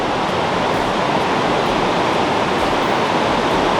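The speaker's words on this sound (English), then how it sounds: "You can hear the noise of water," Heavy river water rushing near Manali, a loud, steady broadband roar of fast-flowing current with no break across the clip.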